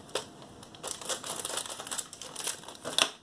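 A gift package containing crochet and knitting items is cut and pulled open, giving close, busy plastic crinkling and rustling throughout.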